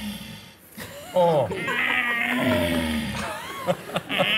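A person's voice imitates a red deer stag's call at the end of the rut: a drawn-out, moaning bellow that wavers in pitch, followed by a few shorter grunting bursts.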